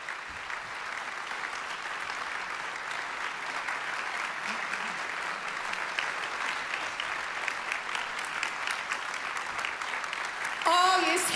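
Audience applause fills a hall at an award ceremony for a national vocal competition, dense steady clapping sustained throughout, with a brief louder swell and a voice near the end.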